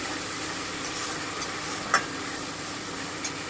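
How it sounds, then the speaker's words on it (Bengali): Cumin paste sizzles steadily in a hot pan, a soft continuous frying hiss with a couple of light spatula clicks as it is stirred. "এবারে আমি জিরে বাটাটা দিয়ে দিচ্ছি একটু নেড়ে নিচ্ছি"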